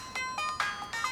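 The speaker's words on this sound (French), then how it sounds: "Vous avez changé ma sonnerie?" Festive mobile phone ringtone, a bright chiming melody of short bell-like notes in quick succession, clear and moderately loud.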